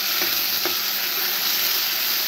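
Rice tipped into a pan of frying potatoes with whole spices such as cardamom, giving a steady, loud broadband sizzle with a couple of brief scraping stirs near the start and no voices.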